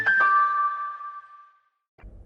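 A loud two-tone ding-dong chime effect rings out and decays over about a second and a half, followed by a short burst of another sound.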